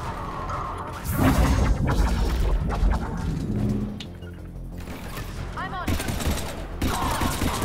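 Bursts of gunfire and crashing impacts in the video game Mass Effect 3, loud and dense in volleys with brief lulls, with speech mixed in.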